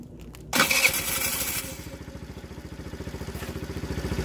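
A TaoTao 50cc Chinese scooter engine that had not been working cranks with a burst of noise, then catches and settles into a rapid, rhythmic buzzing idle, close and steady.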